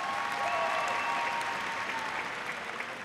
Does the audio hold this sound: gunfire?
no